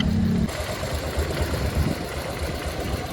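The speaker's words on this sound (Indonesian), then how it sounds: "Ini untuk suara mesinnya. Jadi suaranya BMW sangat halus" A 1966 BMW R27 250cc single-cylinder motorcycle idling up close, a steady, smooth low chug running evenly throughout with no voices.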